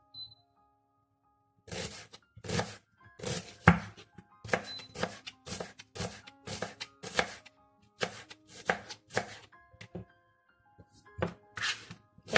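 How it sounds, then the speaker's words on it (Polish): A knife chops onion finely on a cutting board in a kitchen, making a long run of sharp, close thunks in quick irregular bursts with short pauses between, loud against an otherwise quiet room. "Teraz ładnie sobie drobno kroimy cebulkę."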